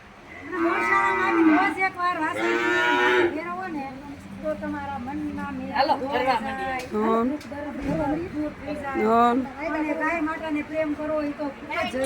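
Cows at a cow shelter low and moo repeatedly, some calls long and drawn out, others shorter, overlapping one another at close range.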